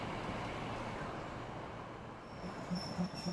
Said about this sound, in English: the train's here already